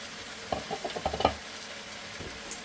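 String beans (sitaw) for adobo drop into hot oil in a pan, giving a short run of soft crackling pops and sizzles that fades quickly, faint and close with no talk.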